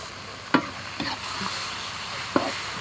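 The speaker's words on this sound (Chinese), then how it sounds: "把这些呢先炒一下" Soy sauce and oyster sauce are stir-fried in a wok as the base for braised beef bones, with a soft continuous sizzle broken by a few distinct spatula scrapes and clanks at close range.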